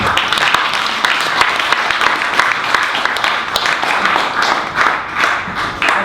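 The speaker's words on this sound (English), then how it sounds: "I think that deserves a round of applause." Audience at a Labour Party conference fringe event on health services gives a round of applause, dense clapping from many hands with occasional louder individual claps standing out, steady throughout.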